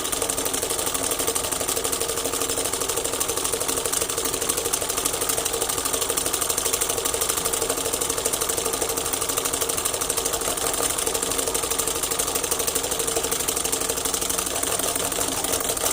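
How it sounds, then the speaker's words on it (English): A flywheel spins on a small neodymium magnet generator, giving a steady, loud mechanical whir with a rapid rattling buzz that stays even throughout, with no voices. "We'll give a turn to the flywheel so that it can rotate."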